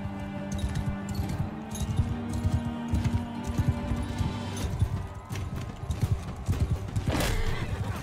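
Horse hooves clip-clopping at a gallop in the game Mount and Blade Bannerlord, with whinnies, a quick impact and battle clatter mixed in, while a player talks briefly over it.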